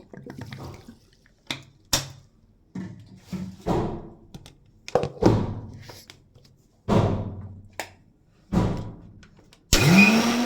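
A mixer grinder runs in short bursts as it blends coriander, salt and a little water into paste, each pulse a loud whirring spin followed by a pause, roughly seven or eight bursts in a row.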